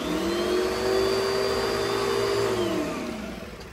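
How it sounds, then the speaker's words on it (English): A Kenmore canister vacuum cleaner runs close up with a steady, loud motor whine and rushing air, holding an even pitch before easing slightly toward the end. "here's the Kenmore canister"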